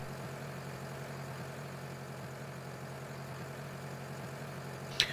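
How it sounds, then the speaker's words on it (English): A tractor engine idles in the video game Farming Simulator 2013, giving a steady, low, even drone throughout with a single brief sharp click near the end. "We're going to drive the tractor from space."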